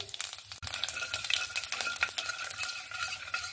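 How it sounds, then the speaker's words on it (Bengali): Bengali five-spice seeds hit hot mustard oil in a pan, crackling and sizzling loudly and continuously up close, with scraping stirring and a brief clink of a utensil. "তেলটা তো গরম হয়েই আছে। এবার আমি ফোড়নে 5 ফোড়ন দিয়ে দেব।"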